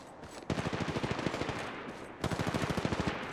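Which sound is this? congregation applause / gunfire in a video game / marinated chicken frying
gunfire in a video game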